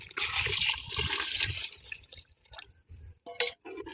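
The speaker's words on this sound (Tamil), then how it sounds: "இப்போ புளி தண்ணி ஆட் பண்ணிக்கலாங்க." Tamarind water pours into fish curry in a clay pot, a steady splashing rush of liquid that eases off, followed by a few clinks and sharp bursts, heard close with no talking.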